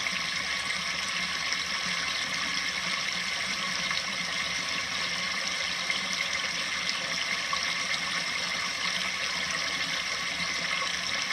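Water flowing in and raising the level, a steady, unbroken rushing wash that stays even and close for the whole stretch, with no voices.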